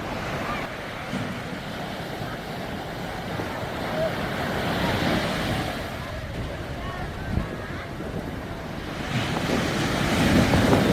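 Strong wind and surf wash over a seaside campsite, a steady roar of gusts and breaking waves with wind buffeting the microphone, rising slightly toward the end.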